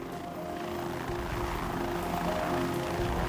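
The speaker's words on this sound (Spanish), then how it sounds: "los helicópteros del Departamento de Seguridad Pública de Arizona recorrieron la ruta programada" Arizona Department of Public Safety police helicopters flying over open desert, a steady distant rotor drone and engine hum that swells slightly and holds without a break.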